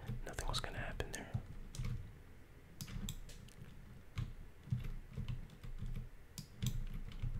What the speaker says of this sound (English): So what do you think about the keyboard sounds and the mouse sounds?